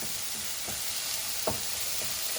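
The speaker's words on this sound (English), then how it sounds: "Now we give this a stir." Vegetables and turnip frying in a pan for confetti rice, a steady sizzle with a few spoon scrapes and one sharper knock as they are stirred.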